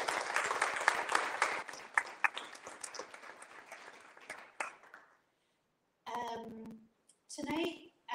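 Audience applause at a poetry reading, a few seconds of lively clapping with whoops that fades out, then a voice speaks briefly near the end.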